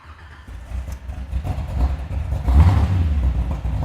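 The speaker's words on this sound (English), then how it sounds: "in order to fire up the car, key on, give it a couple pumps" A 1932 Ford roadster engine cranks and catches, then idles with a low, steady rumble that swells as it revs slightly, close and fairly loud.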